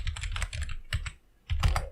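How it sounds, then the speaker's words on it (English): Rapid clattering keystrokes on a computer keyboard in bursts, close and clear, with a brief pause before another flurry of typing. "So let's start typing."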